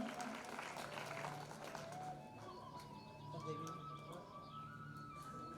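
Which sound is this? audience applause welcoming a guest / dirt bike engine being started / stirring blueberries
audience applause welcoming a guest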